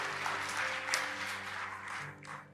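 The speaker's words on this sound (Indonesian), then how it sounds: "berikan tepuk tangan yuk buat Tuhan Yesus ya" Congregation clapping for Jesus during a Sunday church service, a soft, steady patter of many hands that continues throughout without pause.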